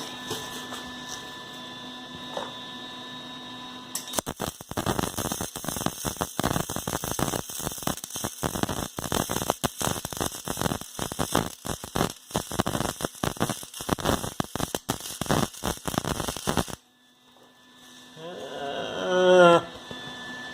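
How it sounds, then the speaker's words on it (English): Overhead out-of-position arc welding produces a steady, loud crackling sizzle that runs continuously for about thirteen seconds, then cuts off abruptly, leaving quiet room tone with brief faint sounds afterward. "Let's do a little overhead welding."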